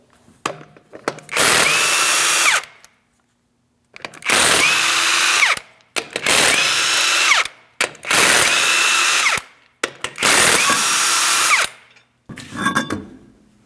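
An impact wrench removes five 21mm lug nuts from a Ford Transit 250 wheel, five loud sustained whirring bursts of about two seconds each, separated by short pauses and faint clinks.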